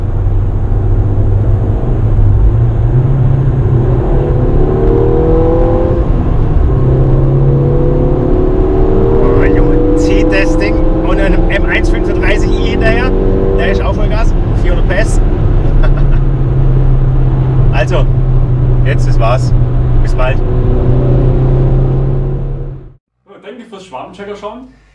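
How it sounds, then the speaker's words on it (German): Ford Fiesta ST180 with 220 PS and 403 Nm accelerating hard on the road, a loud continuous engine roar rising through the gears with steady cabin drone, ending abruptly near the close. "Jetzt machen wir gleich noch eine kleine Beschleunigung"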